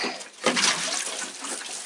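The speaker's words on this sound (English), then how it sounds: "the final stage is I'm just going to water that baby in." Water pours from a hose or can onto a freshly transplanted tomato plant in a geothermal greenhouse, a short close splashing rush that swells after a brief pause.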